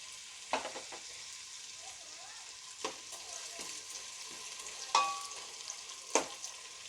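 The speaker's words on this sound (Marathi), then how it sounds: "आता मी ह्याच्यामध्ये डिंक घालून तळून घेते" Edible gum frying in hot ghee over a low flame, a steady soft sizzle with occasional light stirring taps and pops, close by, with no one talking.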